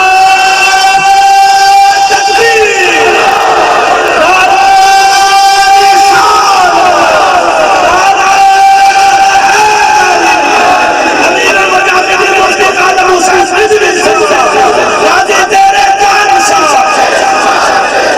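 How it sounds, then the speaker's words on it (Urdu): A large crowd loudly chants a religious slogan in unison at a rally for an Islamic speech, voices massed and sustained with rising and falling calls, close and dense for the whole stretch. "لبیک دا نعرہ"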